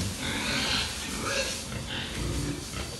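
F1 Duroc crossbreed pigs on a farm in Bali grunting and snuffling in a dense, continuous mix, close and fairly loud, with no clear speech.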